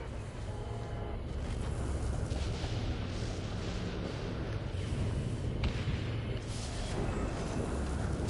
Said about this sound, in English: Everything's exploding around here